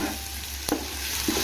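Ginger garlic paste fries with golden-brown onions for chicken pulao, making a loud, close, steady sizzle with a sharp utensil knock partway through and more scraping near the end.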